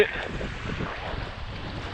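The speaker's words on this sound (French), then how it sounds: "Oh là là, le vent." Wind gusting across the microphone at a riverside feeder fishing spot, a steady rushing, buffeting roar that holds throughout with no talk.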